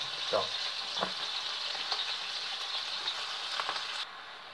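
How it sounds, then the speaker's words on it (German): Boiled potatoes being swirled in a pot on a hot stove, a steady hiss and sizzle with soft scraping shuffles as the pot is shaken back and forth, cutting off near the end. "wenn man sie hier noch mal kurz auf den Herd stellt und ein bisschen hin und her schwenkt"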